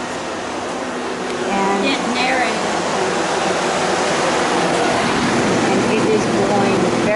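A Velit 2000R mini rooftop air conditioner on a Promaster van runs and blows cold air, making a steady broadband whoosh that grows a little louder after the start, with a voice speaking briefly over it.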